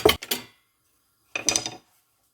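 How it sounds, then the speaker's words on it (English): A pan set down on a gas hob while cooking lasagne with crème fraîche: two quick metallic clatters close by, then a pause and another short rattling clank. "Gas on, pan on."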